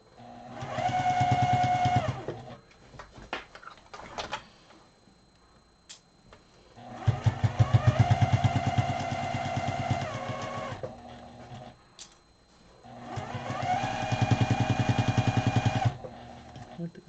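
A Juki 2010Q sewing machine stitches binding onto a dust cover in three separate runs of fast, steady needle chatter, separated by short pauses with faint clicks and handling sounds.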